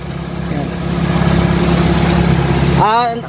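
An old-school Toyota Corolla's small-body engine idles with a steady low rumble under someone talking close by, ending abruptly as his voice rises.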